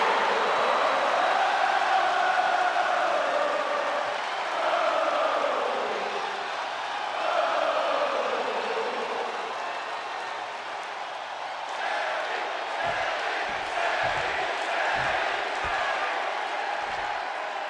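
A WWE Raw arena crowd on its feet cheering for Sami Zayn, a dense, sustained roar of many voices that swells and eases, with a few sharp thuds later on.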